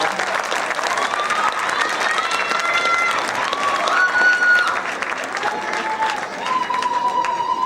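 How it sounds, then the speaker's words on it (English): Sustained applause from an audience at a high school academic awards ceremony, steady and loud throughout, with scattered cheering and a voice talking over it. "Let's give them a round of applause"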